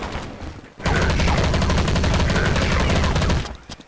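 Rapid automatic gunfire in the video game Counter-Strike 1.6 bursts in loud and close for about three seconds of continuous shots, then cuts off.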